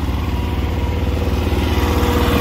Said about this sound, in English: we did fire up the conveyor a little bit just to see how she ran